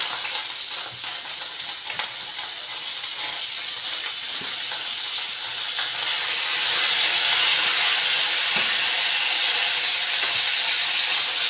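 Ridge gourd peel fries in a pan with a steady, close sizzling hiss that grows slightly louder toward the end, and no talking over it.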